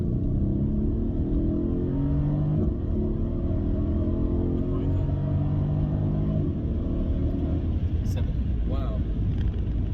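A Mercedes-AMG car engine pulls hard through a long acceleration with rising revs, then eases off into a lower rumble, loud and close.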